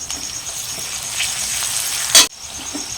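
Garlic paste hitting onions, cinnamon, cloves and cardamom frying in a pan, a continuous moderate sizzle topped by a sharp hissing burst near the end before settling back.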